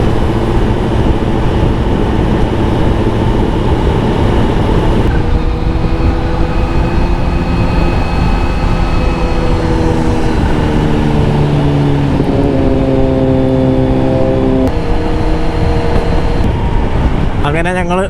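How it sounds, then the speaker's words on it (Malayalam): Suzuki Gixxer 750 motorcycle engine on a group ride on mountain roads, a loud steady drone with rising and falling gear-change tones, continuous throughout amid wind and other bike noise. "ഈ ജിക്സർ 750 അതും നല്ല സൗണ്ട് കേട്ടോ."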